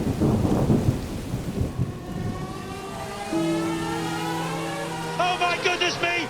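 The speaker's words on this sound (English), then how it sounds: "it's now raining hard" Thunder rumbles and rain pours during a motor race, with dense low crashes early, then a sustained noise bed with engine-like tones and a voice talking over it.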